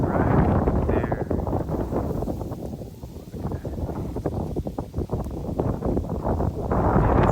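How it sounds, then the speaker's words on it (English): Strong wind buffets the microphone with heavy low rumbling gusts that swell and ease throughout, loud and close. "as you can tell, it was quite windy over there"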